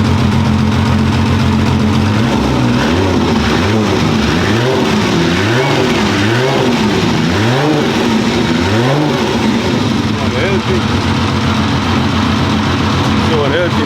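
A Mercedes 190E with a swapped 1JZ engine running loudly up close, rising and falling through a series of repeated revs before settling back to a steady idle, with people talking over it.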